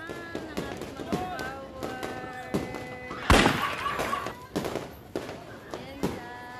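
Fireworks bursting at a New Year celebration, with sharp cracks scattered through the clip and one heavy boom near the middle, while excited voices shout and talk over the noise.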